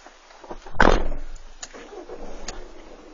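A car door slams shut with a single loud thud inside the vehicle, followed by faint rustling and small clicks.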